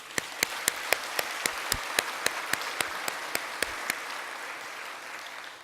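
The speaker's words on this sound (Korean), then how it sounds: "우리 강진숙 목사님을 기억하고 한번 박수하겠습니다." A church congregation applauds during a Sunday service, with crisp, evenly spaced claps over a soft wash of hand noise for about four seconds, then fading away, no talk.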